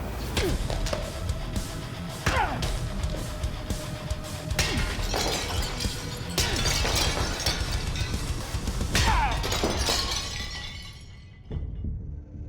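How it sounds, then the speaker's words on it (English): Forged blades smashing clay pots in a blade-testing contest: a rapid series of loud shattering crashes and breaking pieces, one strike after another over the whole stretch, close and harsh, fading to scattered debris at the end. "I will be taking them and smashing these pots."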